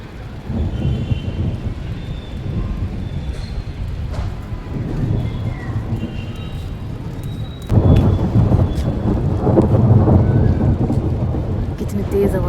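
Loud rolling thunder over steady rain, with a sharp crack and heavier rumble midway that keeps growling to the end.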